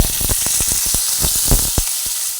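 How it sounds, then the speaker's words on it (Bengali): Dried red chillies, garlic and chopped onion fry in oil with a loud, close, continuous sizzle, broken by repeated scraping stirs against the pan. "পেঁয়াজ রসুন আর শুকনো লঙ্কা একসঙ্গে ভেজে নিলাম"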